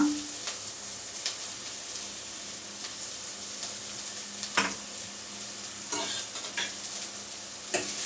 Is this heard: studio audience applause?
no